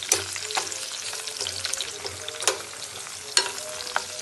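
Capsicum sizzles steadily in a hot pan, with occasional clinks and scrapes of a spoon stirring; no one speaks.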